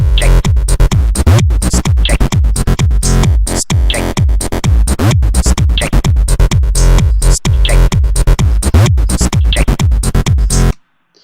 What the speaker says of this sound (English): how to make a Complextro style sort of like bassline drop type thing